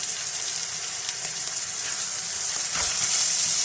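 Keema filling mixed with chili sauce, ketchup, soy sauce and green chili sauce cooks in a pan, sizzling steadily and loudly up close, with a slight surge of hiss near the end and no talk.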